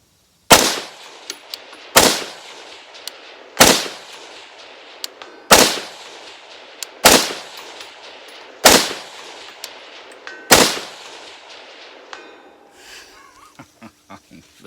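Springfield Armory Saint Edge rifle fired at steel targets 400 yards away: seven loud, sharp shots spaced roughly every one and a half seconds, each ringing out with faint distant metallic tings, followed by quieter clinks.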